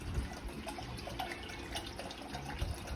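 A bottle of water being poured, probably into a pot, giving a soft continuous splashing trickle, faint and steady for a few seconds.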